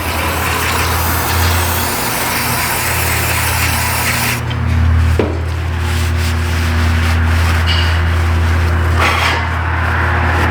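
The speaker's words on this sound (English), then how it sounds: "We'll clean all of our brake fluid off here." A rag scrubs brake fluid off a snowmobile's brake parts in a garage, giving a steady close rubbing and wiping sound with brief handling knocks partway through.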